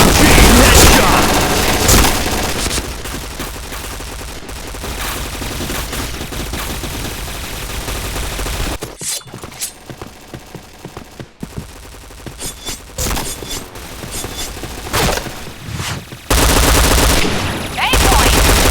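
Dense, loud bursts of rapid automatic P90 fire fill a video game match, broken by a short quieter lull, with impacts and effects layered throughout.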